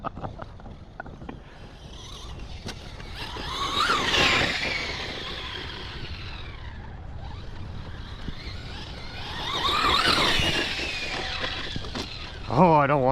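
A Traxxas X-Maxx RC monster truck on off-road speed tires tears over rough, bumpy ground, its electric motor whining up in two loud passes that swell and fade. A person talks over it.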